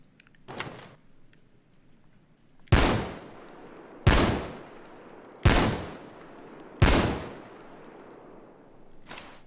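Five loud, widely spaced shots from a SPAS-12 (Predator 12G) shotgun in the Payday 2 video game, each a sharp blast with a decaying tail, preceded by a fainter handling click.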